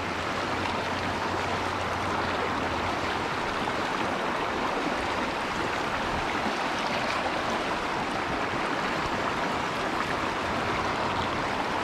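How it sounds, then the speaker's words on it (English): Turbulent river water rushes and churns below a dam outflow on the Kiewa River at Mount Beauty, a steady broadband roar that holds constant and close throughout, with no voices. "The water's really turbulent here"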